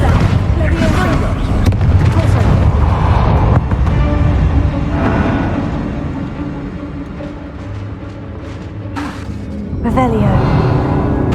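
Bombarda explosion spell in Hogwarts Legacy, cast in a catacomb: heavy, rumbling blasts and booms fill the clip, loud and continuous, with another burst near the end.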